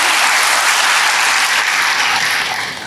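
Church congregation clapping in praise during a sermon, a loud, dense, continuous wash of many hands filling the room, steady for a few seconds before beginning to fade.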